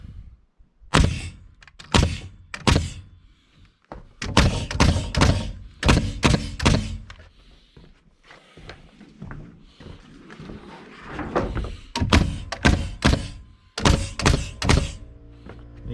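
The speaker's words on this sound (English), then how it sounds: "In the interest of time, I'm going to shoot 3-inch ring shanks." Pneumatic nail gun fires 3-inch ring shank nails into 2x6 lumber on a construction site, with loud sharp thunks in quick clusters of two to four shots separated by short pauses.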